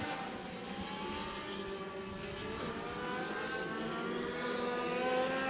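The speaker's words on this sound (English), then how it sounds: "2 laps to go here in the heat race, and the battle is still for that final transfer spot as Adam Zellmer looks to the inside of Cody" Dirt track race cars at Maquoketa Speedway battle through a heat race, engines droning steadily at a distance with layered rising and falling whines from several cars, no voices over it.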